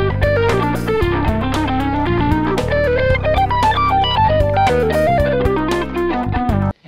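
Electric guitar plays fast modern Dorian scale licks, a loud stream of distinct picked notes with a lightly driven, effected tone, alone without any talking.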